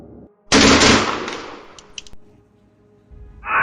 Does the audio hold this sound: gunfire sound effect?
yes